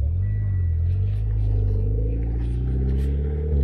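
Mitsubishi Evo X rolling past close by on a road, a loud low engine drone that builds and holds for a few seconds, with brief voices nearby.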